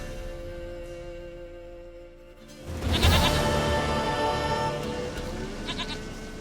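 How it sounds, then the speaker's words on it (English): A goat bleats in The Witcher 3 video game, a loud wavering bleat rising sharply mid-clip over a steady ambient background music bed, no talking. "Goat of mine, dearest, sweetest goat."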